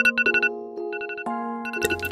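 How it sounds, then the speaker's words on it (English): A video game alarm ringtone from Toca Life World chimes in a quick, bright melodic pattern of repeated electronic tones, moderately loud and alone. "Okay, well that's my alarm."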